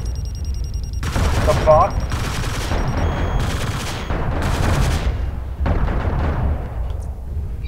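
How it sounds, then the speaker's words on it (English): Heavy PPC energy weapons in MechWarrior Living Legends fire in a series of loud bright blasts one after another, each burst cracking and rumbling close by; one voice swears briefly partway through. "He just shot loads of PPC in me."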